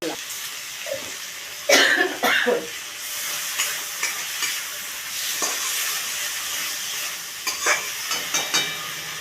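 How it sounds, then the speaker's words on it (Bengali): Fish curry being stirred in a pan, with intermittent scraping stirs over a frying sizzle and hiss, close. A voice speaks and coughs at times. "দু মিনিট নেড়ে চেড়ে নিয়েছি"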